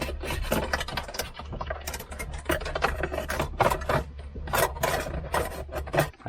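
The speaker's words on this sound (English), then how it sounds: "I'm trying to fish some of these wires." A coat hanger is worked behind plastic car interior trim to fish dash cam wires, giving close, irregular scraping and rubbing bursts with faint rustles between strokes.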